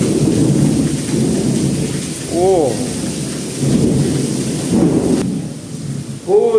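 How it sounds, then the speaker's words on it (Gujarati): Heavy rain pours steadily close by with rumbling thunder beneath it, a voice briefly exclaiming over the downpour and a few short bursts of sound near the middle and end. "ફૂલ ગાજે છે."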